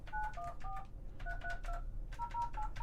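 A phone call is dialed during a podcast, giving three clusters of quick electronic keypad tones over a low background hum. The tones are moderately loud, and no one talks.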